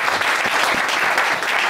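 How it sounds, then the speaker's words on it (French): A church congregation breaks into applause, dense clapping from many hands that fills the room, close and steady for a short burst with no speech over it. "Donnons une acclamation."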